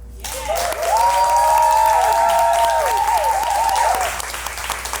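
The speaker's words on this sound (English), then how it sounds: "will y'all help me give a round of applause to 121 Media Group?" Applause from a podcast audience, with whoops and cheers riding over it, swelling for several seconds and then tapering off.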